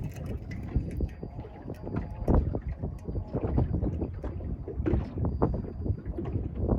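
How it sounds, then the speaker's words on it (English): Strong wind buffets the microphone on a small fishing boat out on the bay, a steady loud rumble and roar with gusting surges throughout. "Wow, this wind is bad."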